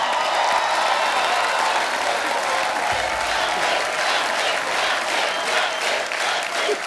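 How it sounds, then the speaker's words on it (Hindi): Studio audience at The Kapil Sharma Show applauds for Ranbir, a continuous full wash of clapping from a large crowd, loud and even for several seconds, with faint music or voices underneath. "रणबीर के लिए जोरदार तालियां।"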